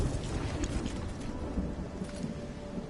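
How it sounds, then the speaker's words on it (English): Heavy rolling thunder from a storm in Lego Fortnite, a loud low rumble that fills the whole span continuously without any voices. "that thunder is so loud"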